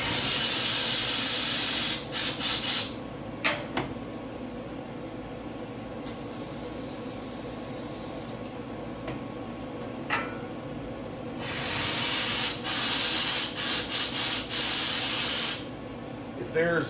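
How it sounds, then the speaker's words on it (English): Compressed air blasting through new Mishimoto transmission cooler hoses on a Dodge Ram, a loud continuous hiss with a few sharper bursts in between. "hit it with a little compressed air"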